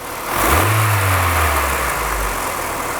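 Acura Integra engine, fitted with a new exhaust header, revs up from idle in one smooth rise, holds, then eases back down, loud and close with a faint rattle and no voices.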